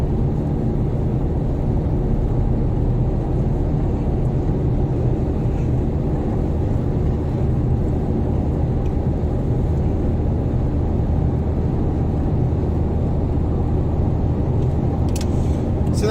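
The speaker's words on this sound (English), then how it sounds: "this is the kind of highways in dusk that you'll be driving along." A car cruises along a Spanish highway at dusk between Cartagena and Almería, with loud, unbroken low road and engine rumble filling the cabin from start to finish.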